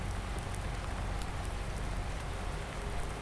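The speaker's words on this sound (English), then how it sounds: "The rain looks like it's set in for today." Steady rain falls in Farming Simulator 19, a dense even hiss of drops on surfaces with a low rumbling bed, continuous and close.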